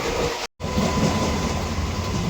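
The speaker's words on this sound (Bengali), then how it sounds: "আর আমাদের ট্রেন ছেড়ে দিল শিয়ালদা স্টেশন থেকে" A train pulling out of Sealdah station toward Bakkhali, a steady loud rumble of the carriage with a brief dropout near the start, then a continuous rolling roar with no voices.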